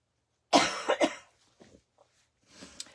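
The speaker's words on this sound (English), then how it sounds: "it's always so much fun when you're coughing" Several harsh coughs burst out close together near the start, then a couple of faint throat-clearing sounds and a softer cough trail off at the end.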